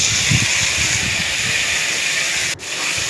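Tomatoes added to a frying pan of browned chopped onions give a loud, steady sizzle and hiss, close up, with a brief dip near the end.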